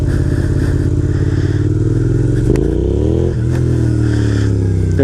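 A dual sport motorcycle engine revs hard for a power wheelie, a loud, close roar that climbs in pitch, dips briefly and surges again.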